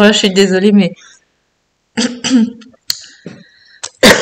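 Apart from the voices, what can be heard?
cough after Covid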